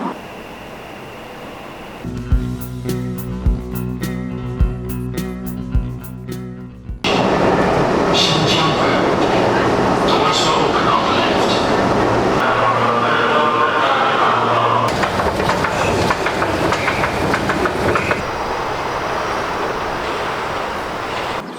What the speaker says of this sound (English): we'll be getting back on the metro and heading towards the end of the line